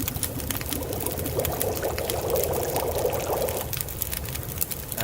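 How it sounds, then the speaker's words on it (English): Snow melting into water over a fire in The Long Dark, a steady pouring, trickling liquid sound that swells in the middle and fades, heard alone at moderate loudness. "Melt a liter of snow."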